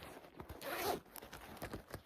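A zipper slides along the pocket of a Fossil genuine leather purse, making one quick raspy pull in the middle of a quiet room.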